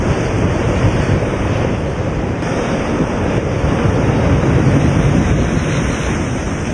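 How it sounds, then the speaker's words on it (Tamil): Rough sea waves pound the shore at Cuddalore during Cyclone Fengal, a continuous loud surging roar with heavy wind buffeting the microphone throughout. "கடலூர் 5வது நாளாக கடல் சீற்றமாக காணப்படுகிறது"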